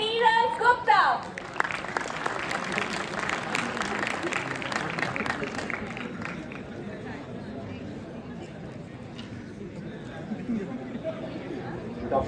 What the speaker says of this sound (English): Please give a huge round of applause for Mr. Neeraj Gupta.